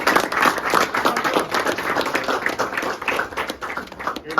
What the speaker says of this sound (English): give him a round of applause as he comes.